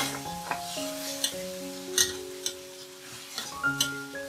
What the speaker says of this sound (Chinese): 放入番茄酱炒一炒